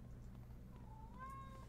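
A cat meows once, a rising then falling call about a second long, heard fairly close over a steady low hum with no talking.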